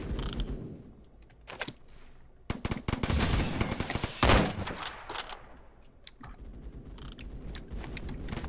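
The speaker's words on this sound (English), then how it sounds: "He just shot me, guys." Gunfire in a shooter game, with rapid automatic bursts and single cracks in uneven clusters, loud and close, dense stretches of shooting separated by brief quieter gaps.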